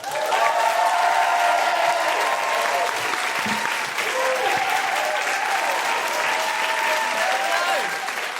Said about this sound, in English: Put your hands together and make excited Guilty Feminists woohooing noises